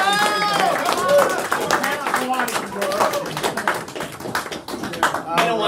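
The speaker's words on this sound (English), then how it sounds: "So without further ado, Mr. Joe Presti, round of applause" An audience at an investor meeting claps for a speaker being introduced, scattered sharp hand claps mixed with people talking and calling out over the applause.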